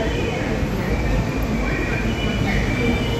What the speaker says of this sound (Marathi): ही बघा, ही आली आपली मेट्रो रेल्वे